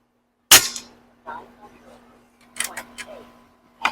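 A Barra 250Z airgun fires with one sharp, loud crack near the start, then softer mechanical clicks and handling noises, and ends with another sharp report in otherwise quiet surroundings.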